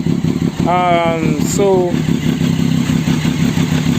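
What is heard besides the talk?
Triumph Daytona 675 motorcycle engine running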